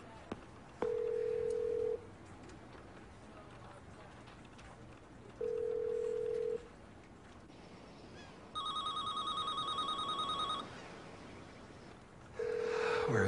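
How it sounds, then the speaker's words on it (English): A telephone call is placed: steady electronic line tones come as long, evenly spaced beeps with one brighter, higher ringing burst midway. Faint background noise runs throughout, with no clear talk over the tones. "I'll get Lauren on the phone."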